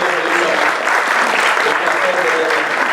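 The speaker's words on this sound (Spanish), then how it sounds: "Un aplauso para él." A crowd gathered at a Dominican municipal event bursts into loud, sustained applause for Félix Jiménez, steady clapping filling the whole moment.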